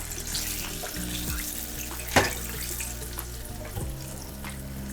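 Fried chicken frying in a fryer: a steady, fairly faint sizzle and crackle with one sharper pop partway through, and no voices.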